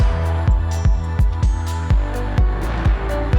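Synth keys pumped by a sidechain compressor in an Ableton Live session swell and duck in a steady rhythm, each pulse dipping sharply on a beat and then recovering, loud and up close.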